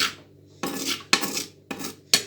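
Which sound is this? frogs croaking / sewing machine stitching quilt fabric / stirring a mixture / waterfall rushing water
stirring a mixture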